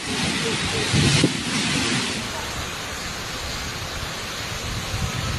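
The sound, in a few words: strong wind and heavy rain from Super Typhoon Pepito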